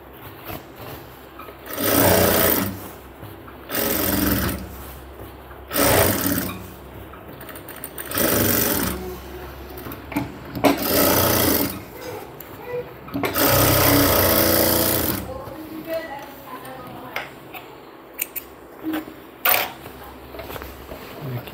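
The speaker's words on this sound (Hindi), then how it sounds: "हम यहाँ पे ऐसे करके एक सिलाई और लगा देंगे।" A sewing machine runs in repeated loud bursts while stitching a cargo half pant, each run lasting a second or two with short pauses between, growing longer and more irregular toward the end.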